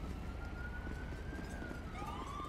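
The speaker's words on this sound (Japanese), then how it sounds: "さあ救急車も来てくれたし" Ambulance siren from the video game GTA5 wailing continuously as it arrives, a rising and falling tone over a steady low engine rumble, fairly distant and moderate in level, with no talk.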